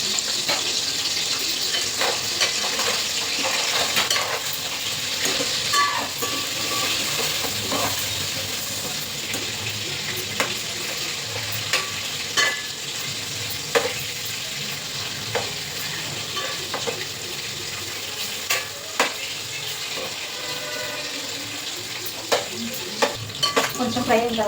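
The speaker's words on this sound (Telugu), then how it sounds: "సగం వేసుకొని ఫ్రై చేసుకున్నామండి" Paneer biryani ingredients fry in a pan, a continuous close sizzle punctuated by repeated sharp clinks and scrapes of a spoon stirring at irregular intervals.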